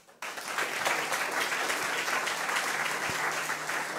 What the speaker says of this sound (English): So please give a warm applause to Riku Voipio.